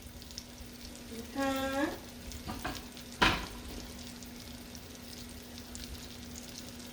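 Onions hit melted butter with a soft sizzle and a few stirring scrapes and clinks, fairly quiet overall, with a brief word spoken.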